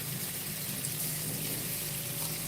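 Water sprays and trickles steadily over plants in an indoor hydroponic garden during a pest-refresh rinse, a continuous even hiss with a faint low pump hum beneath, no voices.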